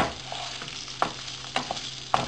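Rice grains toast in a hot pan under a constant soft sizzle, and a spoon stirs them in sharp scraping clicks about every half second.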